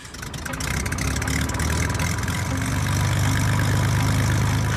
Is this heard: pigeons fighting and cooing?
no